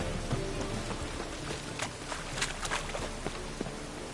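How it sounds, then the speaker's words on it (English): Rainfall in The Witcher 3: Wild Hunt on PlayStation 4 Pro, a soft, steady patter of drops on surfaces with a few brighter splashes and no speech. "Looks like rain."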